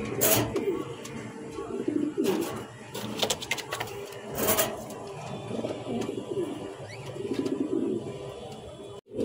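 Several pigeons, including a pair of yellow King pigeons, coo in repeated low murmurs close by, with brief brighter bursts and a steady background hum.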